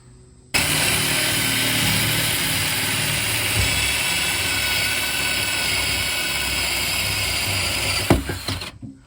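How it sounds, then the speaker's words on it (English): A power drill with a 1/2 inch spade bit bores through wood, running steadily and loudly for about eight seconds, a continuous whirring grind that stops abruptly, followed by a few clattering knocks. "I'm just gonna drill a hole right through there"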